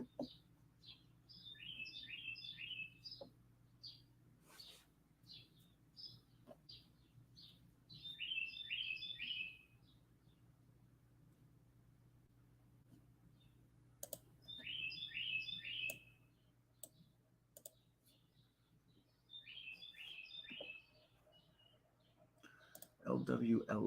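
Birds chirping outside in several short bursts of high, rapid twittering, fairly faint and distant, over a low steady hum with scattered keyboard clicks indoors.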